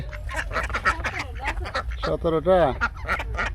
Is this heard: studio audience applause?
no